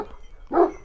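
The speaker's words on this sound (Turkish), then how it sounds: "saldıran bir köpek." A single loud bark from an aggressive dog on a Turkish farm that keeps Kangal dogs, a short sharp burst close by after a quiet stretch.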